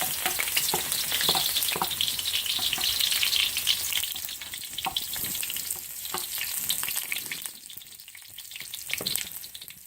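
Garlic frying in hot oil for pancit, a steady close sizzle with crackles and spatters throughout, stirred now and then, no talking.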